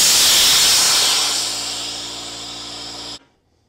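Compressed air from an air compressor blasting through water pipes in a pole barn, a loud, steady rushing hiss that slowly eases off before being cut off sharply.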